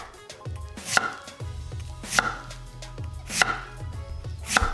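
A knife chops peeled daikon into matchsticks for kimchi on a cutting board, four loud, close, evenly spaced thuds about a second apart.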